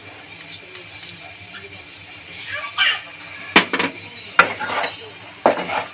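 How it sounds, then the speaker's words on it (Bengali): Prawn curry with pui greens being stirred in a pan: a spatula scrapes and knocks against the metal in scattered, uneven clinks, with a few sharper taps over low kitchen background. "নাড়িয়ে চাড়িয়ে নেব।"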